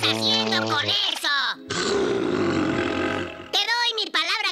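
A cartoon bear from a Woody Woodpecker episode dubbed in Spanish, giving a long, loud rasping growl between bursts of exaggerated cartoon voices.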